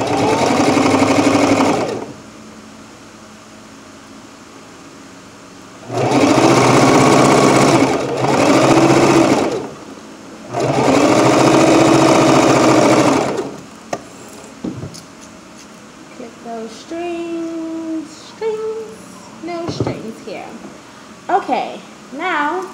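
A sewing machine stitches fabric mask pieces together in three loud, close bursts of steady whirring, each several seconds long. Speech and small handling sounds follow.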